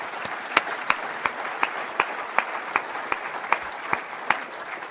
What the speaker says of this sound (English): deserves a round of hearty applause